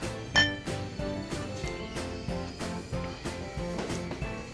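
Glasses of Red Horse beer clink together in a toast, one bright clink near the start, followed by rhythmic background music that carries on throughout.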